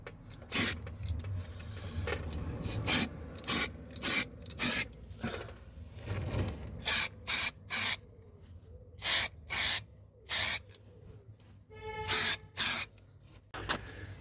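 Underbody protection is sprayed from an aerosol can under a Ford Focus Mk1: about fifteen short, sharp spray bursts come close up in an uneven rhythm, separated by brief pauses and faint rubbing, with no talking.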